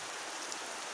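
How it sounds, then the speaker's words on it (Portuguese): Heavy rain in Paraíba, Brazil, falling as a dense, even hiss for a brief moment, alone with no talk. "Muita chuva mesmo, graças a Deus, né?"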